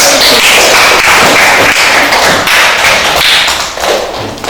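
A classroom of students claps for a student group, a loud dense burst of applause that carries on steadily with overlapping hand claps and a few heavier taps, easing slightly near the end.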